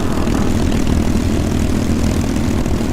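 P-51D Mustang piston aircraft engine in the A2A flight simulator, a steady loud propeller drone with a deep rumbling low end, continuous and unbroken throughout with no talk.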